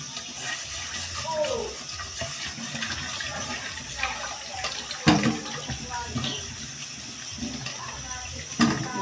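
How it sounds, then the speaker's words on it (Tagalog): Running water splashes and sloshes in a sink while a pot is scrubbed and knocked, with occasional clanks and a voice talking in the background. "Mag-aasis po tayo ng kaldero."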